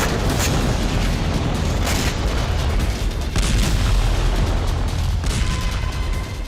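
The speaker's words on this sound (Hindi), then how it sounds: "कीव में मिसाइल हमले के दौरान कई धमाके हुए" Several heavy booms from a Russian missile strike on Kyiv, striking a densely populated area of tall buildings, roll together as a dense, continuous low rumble, with sharper blasts standing out near the start and midway.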